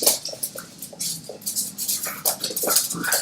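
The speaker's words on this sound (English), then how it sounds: "Now my dogs are fighting, sorry." Dogs scuffling and whimpering nearby in a home, a quick run of yips, whines and pattering bursts with no speech over them.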